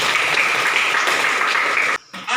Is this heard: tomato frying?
no